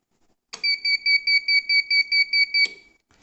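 An electronic device buzzer beeps in a rapid, evenly pulsed series of about ten shrill tones lasting two seconds, close and clear against near silence.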